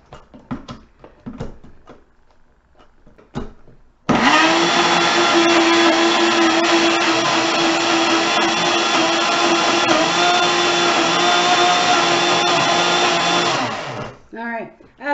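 A blender or food processor whirs loudly and steadily for about ten seconds, blending strawberry frozen yogurt; the motor hum holds constant, with faint talk and kitchen noises before it starts and after it stops.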